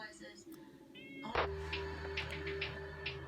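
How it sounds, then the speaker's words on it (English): A house cat meows a few times indoors, short mewing cries rising over a low background hum and some faint talking. "Damn cat."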